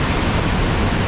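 Roaring waterfall in a large system of over 270 falls in Brazil, a loud, steady broadband rush with no breaks, filling the short moment.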